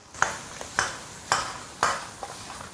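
Fish bones stirred and tossed in a wok with lard, ginger, scallion and pickled cabbage for Sichuan-style pickled cabbage fish, four or five sharp scraping clanks of a spatula over a soft steady sizzle, close up.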